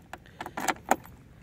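Keys for a 2022 TVS iQube S electric scooter jangling at close range, several bright metallic clinks and rattles in quick succession without speech.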